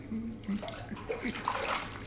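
Water runs from a shower in a salon's rinsing area, a steady broadband splashing that goes on throughout at moderate loudness, with faint voices under it.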